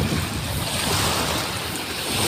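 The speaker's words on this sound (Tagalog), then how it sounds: "Sarap ng alon." Ocean surf washes in as a steady, loud roar, broad and unbroken over its length, with wind buffeting the microphone and no voices.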